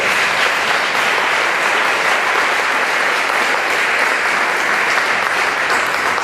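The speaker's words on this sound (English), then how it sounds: "Please give them a round of applause." A crowd at a mayoral debate applauds, a loud, even wash of many people clapping that keeps up for about six seconds with no speech over it.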